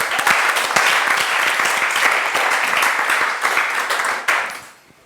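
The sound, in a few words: applause for Christ and the teacher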